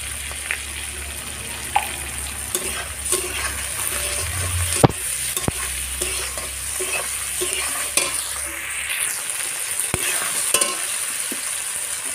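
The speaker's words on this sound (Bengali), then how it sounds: "টমেটো কুচি দিয়ে দেব।" Chopped tomatoes hit the hot pan with fried onions, dried chillies and cumin, giving a close, continuous sizzle. A spatula stirs and scrapes throughout, with scattered sharp knocks against the pan.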